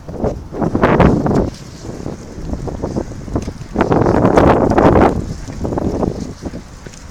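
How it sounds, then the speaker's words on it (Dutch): Wind gusts on a cold, rainy early-April day in Beek, roaring in two strong surges with rougher buffeting between them, close and loud against the microphone. "Koud, regen,"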